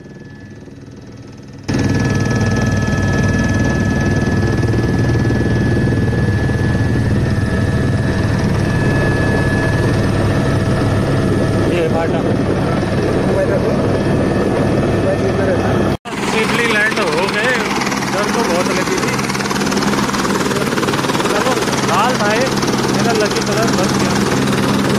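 A helicopter flight near Phata on the Kedarnath route, about to land: a loud, steady rotor and engine roar dominates throughout, with the tone shifting slightly partway through, and voices talk beneath the noise.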